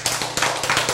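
A church Bible-study audience clapping, a short run of quick, fairly loud hand claps close by, about six sharp beats in one second with no talk over them.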